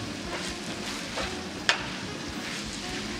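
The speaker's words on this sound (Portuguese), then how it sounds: "Enquanto a nossa jaca tá refogando" Jackfruit sautéing with masala in a pan, a steady soft sizzle with faint stirring scrapes and one sharp utensil tap midway, close and continuous.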